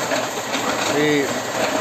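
Steady mechanical rumble and whir from a gold processing machine fed with crushed rock, loud and continuous with a faint squeal in the middle, as someone talks over it.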